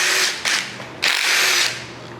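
A power drill or impact tool spins out the four 10mm bolts holding the oil pump on a 5.3L LS LM7 V8 engine, giving two loud, close whirring bursts with a brief pause between them and no talk.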